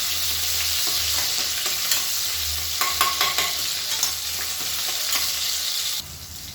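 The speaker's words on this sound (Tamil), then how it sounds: "இப்போ இதில் வெங்காயம் சேர்த்துக்கலாம்." Small onions sautéing in a pan for radish sambar give a steady, close sizzle with a cluster of scraping stirs in the middle, then a quieter fry in the final half second.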